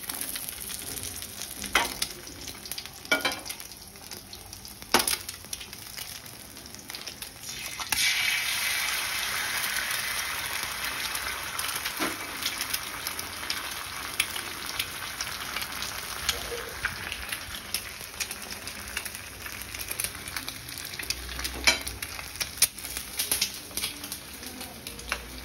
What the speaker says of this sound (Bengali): চারটা ডিম ভাজি করে নিলাম